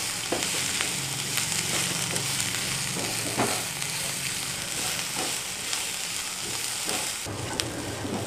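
Ingredients for a beef curry sauté in a pan with a continuous moderate sizzle, broken by occasional soft scrapes and knocks of a stirring spoon.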